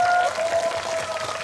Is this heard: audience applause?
yes